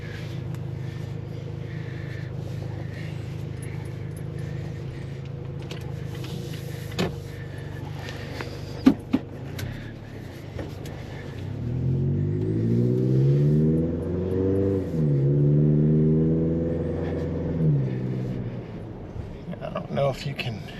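Toyota Tacoma 2.7 with a Borla cat-back exhaust driving off at low speed: a steady low exhaust drone, then a louder stretch of rising and falling tone as the truck accelerates through gears, with a couple of brief clicks midway.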